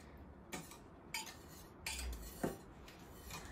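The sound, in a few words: stirring the cream mixture into milk in a pot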